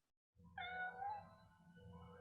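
A cat in the horror film Amityville 4: The Evil Escapes gives a drawn-out, wavering meow after a moment of silence, fairly quiet over a low background hum.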